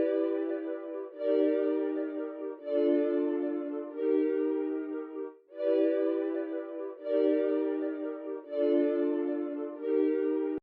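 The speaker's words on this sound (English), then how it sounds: "Then I added this synth that it was made I think on Sky Keys" A synth lead built on Sky Keys plays a sustained, bright melodic line in long held phrases with brief gaps between them, loud and clean with a slight echoing tail and no voices.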